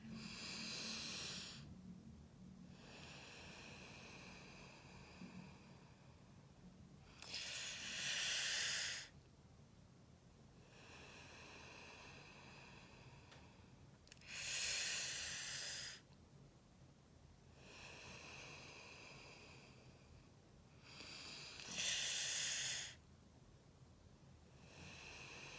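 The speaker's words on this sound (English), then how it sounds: "Inhale slowly through the gaps in the teeth and focus on the hissing sound of your breath." Sitali/Sitkari breathing draws air slowly through the gaps in the teeth, making three drawn-out hissing inhales spaced several seconds apart, with soft quiet breathing between them and no talking.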